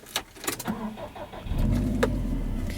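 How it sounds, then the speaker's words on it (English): A 2013 Subaru WRX STI 5-door starting up and pulling away, with a few clunks and clicks before the engine catches, then a steady, close, loud engine rumble that swells as the car sets off. "setting off in the 2013 Subaru WRX STI"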